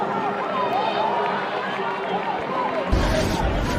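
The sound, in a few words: crowd at Georgetown v Notre Dame lacrosse game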